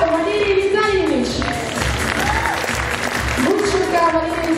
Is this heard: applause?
yes